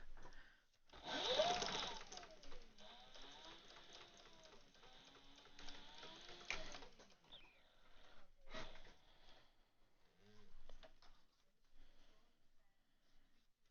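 An industrial sewing machine stitches through a Devon pouch and its plastic clip, a quick whirring run of stitching early on followed by quieter mechanical rattles and handling noises, with faint breathing and movement between bursts.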